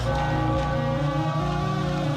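A bell rings to celebrate the Phillies' 11-8 spring training win over the Orioles, its tones steady and sustained from start to finish.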